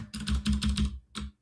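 Quick bursts of keystrokes on a computer keyboard, about five clustered taps, a short pause, then one more. Close and fairly quiet, with no talking.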